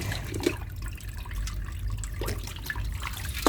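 Running tap water streams steadily into a sink as pickled mustard greens are rinsed, with a few faint clinks and splashes.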